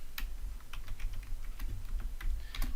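Computer keyboard keys are tapped in quick irregular bursts, soft clicks close by over a low background hum, with no talking.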